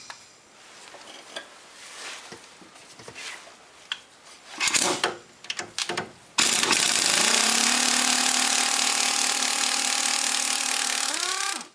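Socket tool removing brake hose and strut mount fasteners on a Ford Contour front strut: scattered metallic knocks and scraping, then a loud, continuous power-tool whir running steadily to the end, close up.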